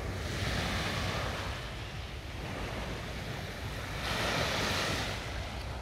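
Waves break and wash along the Odesa shore of the sea on a sunny spring day, a continuous broad surf roar with a swell of louder breakers toward the end, some wind buffeting the microphone, no talk.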